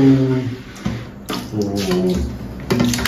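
Water sloshes and splashes in bursts as a large ondel-ondel mask is dipped and washed in a tub, close, with a person talking in between.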